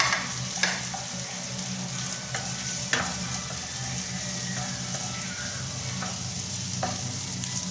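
Ginger and garlic sizzle steadily in a hot pan, a continuous frying hiss broken by a few sharp clinks and stirring scrapes, with no voices.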